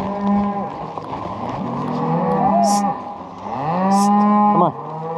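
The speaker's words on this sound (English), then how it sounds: "Where you going, cow?" Cattle being brought home moo nearby, several long, loud, drawn-out lows one after another with faint background sounds between them.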